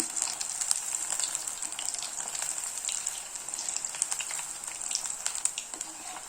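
Cauliflower pieces frying in hot oil for cauliflower chilli, a steady close sizzle with scattered crackles and pops that runs without a break.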